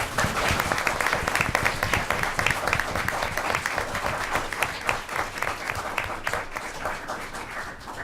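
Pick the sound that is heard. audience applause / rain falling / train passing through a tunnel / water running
audience applause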